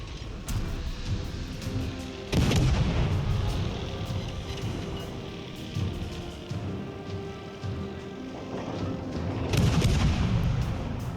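Naval guns fire in World of Warships Legends, heavy booming salvos landing every few seconds over a constant rumbling battle bed, with a couple of especially loud blasts standing out.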